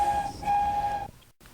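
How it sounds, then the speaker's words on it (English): A shrill, steady whistle sounds loudly and fairly near in two long blasts with a short break between, cutting off abruptly before a brief silence. "Early one morning, Stafford and Paxton were in the yard when they heard a shrill whistle."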